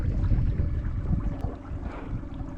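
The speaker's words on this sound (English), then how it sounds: "We can just sit here and do donuts right in the middle of the creek." Motorboat circling in tight donuts in the middle of a creek on a cold day, with a low churning engine rumble, water wash and wind buffeting the microphone close by, and no talking.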